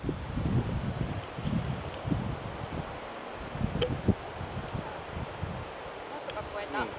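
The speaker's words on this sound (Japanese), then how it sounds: "結構風吹いてますからね" Wind gusting across an outdoor golf course, a steady rushing buffet against the microphone with low rumbling bursts throughout and a few faint clicks.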